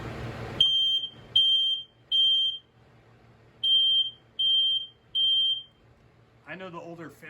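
A high-pitched smoke alarm beeps in quick bursts, six shrill tones in two groups of three, loud and close in a quiet room, with a voice starting to talk at the end.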